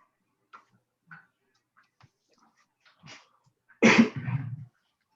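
A single loud, close sneeze bursts out in a quiet room during a recreation and parks committee meeting, preceded by a few faint scattered sounds.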